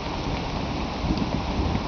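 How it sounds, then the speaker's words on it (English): Steady rain pours over a low, continuous thunder rumble, loud and close throughout, with no voices. "See, here it comes. That's getting to the middle of the thunder."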